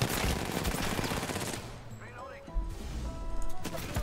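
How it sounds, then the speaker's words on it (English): Dense automatic gunfire in an Apex Legends arena match, loud and rapid during the opening seconds, then thinning to scattered shots and game effects while a person talks. "There's too many people shooting at me."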